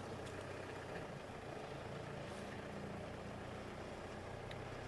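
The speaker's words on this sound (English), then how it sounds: "you can hear that diesel making a bit of a noise" Diesel safari vehicle engine running steadily in the bush, a continuous low rumbling drone at moderate distance, faint and unbroken with no voices.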